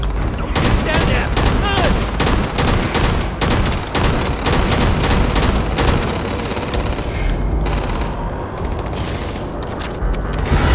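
Dense, relentless gunfire rattles through a firefight in the video game Starfield, rapid overlapping shots and bursts with heavy booms, loud and continuous throughout, with shouting voices mixed in.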